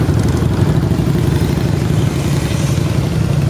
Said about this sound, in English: All right, Leslie, we're gonna breeze the bike out